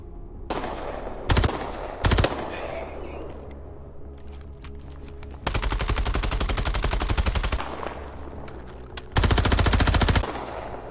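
A video game weapon is hip-fired in bursts: a few short single shots, then a long rapid automatic stream and another sustained burst, loud and close with nobody speaking.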